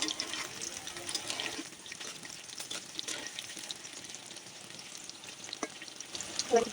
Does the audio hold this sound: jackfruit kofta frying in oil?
yes